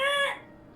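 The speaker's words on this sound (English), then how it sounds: "I hear birds! I love it." Birds outside at 7 a.m., a single short bright call with a harmonic, rooster-like tone that cuts off quickly into quiet background, close and fairly loud.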